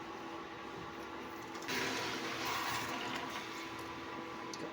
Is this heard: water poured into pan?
yes